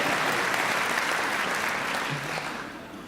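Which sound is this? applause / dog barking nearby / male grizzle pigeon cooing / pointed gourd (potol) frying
applause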